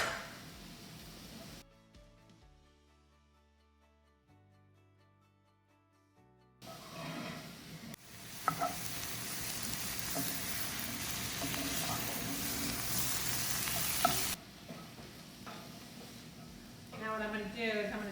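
Garlic sizzling in a pan in a home kitchen, a steady close hiss that starts after a quiet stretch with music, with a few sharp clicks of utensils and a burst of louder sizzle near the end.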